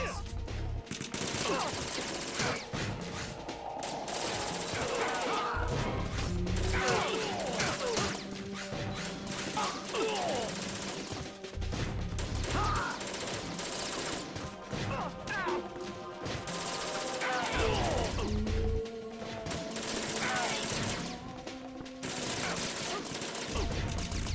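Dense stretches of gunfire and crashing impacts from the stealth video game Metal Gear Solid 2, with bursts of shots and loud hits repeating through a busy, layered game soundscape, loud throughout.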